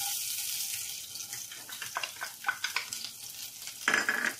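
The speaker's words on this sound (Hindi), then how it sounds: "तेल हमारा गरम हो गया, पहले हम इसमें अपना ये लहसुन डालेंगे" Garlic dropped into hot oil for a tomato pasta sauce, sizzling steadily and then crackling in louder, uneven bursts near the end.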